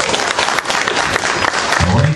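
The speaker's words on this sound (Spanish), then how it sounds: "A ver, queremos escuchar esos aplausos" Party guests at a village fiesta in Ameyaltepec applaud a bride and groom with loud, dense clapping, while a voice and music rise near the end.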